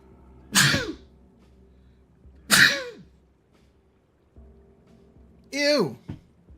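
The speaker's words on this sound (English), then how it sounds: "Somebody sneezed." Three sharp sneezes burst out one after another at roughly two-second intervals, each a sudden loud explosive blast that trails off quickly, close to the listener over a faint low background hum.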